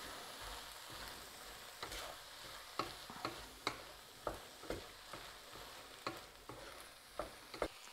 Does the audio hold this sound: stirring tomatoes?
yes